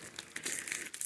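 Plastic bag from an MRE ready-to-eat meal pack of cheese tortellini in tomato sauce being crinkled and handled up close, with irregular crackling bursts over about a second.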